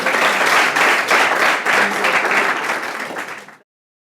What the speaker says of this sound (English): So a round of applause again.